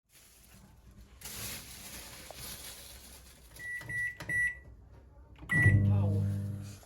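A microwave oven baking breadfruit hums quietly, followed by a few clear electronic beeps and a louder low hum or rumble as it starts up again near the end.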